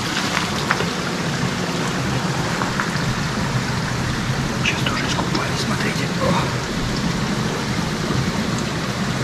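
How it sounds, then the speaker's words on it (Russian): Clear mountain water rushes steadily over a waterfall near Lazarevskoye, Sochi, a dense, even hiss of flowing water close by, with people talking faintly over it. "Чистейшая горная вода."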